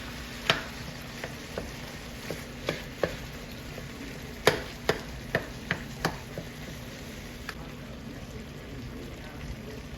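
Ground meat for chalupas cooks in a pan with a steady low sizzle, broken by sharp scraping clicks of a utensil against the pan at irregular intervals, close and moderately loud.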